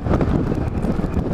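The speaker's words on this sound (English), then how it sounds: "Wind a little bit blowing, gusting at like 20" Wind gusting at around 18 to 20 mph buffets a motorcycle rider on a hot summer day in Michigan, a steady broadband roar of rushing air and mic buffeting, loud and close with no voices.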